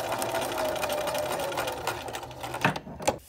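A sewing machine runs steadily, stitching selvage strips onto a small quilted mug rug, a close, continuous buzzing whir that slows near the end into a couple of brief clunks.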